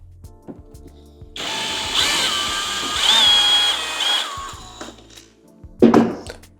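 A power screwdriver backs a screw out of a JBL Partybox 720 speaker during a teardown, whirring close in one sustained run of about three seconds, then a short final burst, with small clicks and knocks around it.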